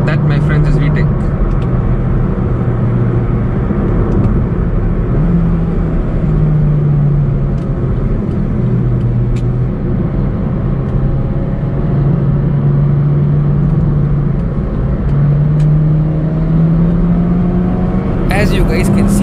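A 2009 Honda City's VTEC engine in sport mode and second gear, a loud, continuous engine drone heard from inside the car with rising and falling revs and steady road rumble beneath.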